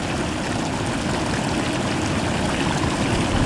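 A flood torrent roars without a break, muddy water rushing hard and carrying large stones downstream, a dense, loud, continuous wash with no talk over it.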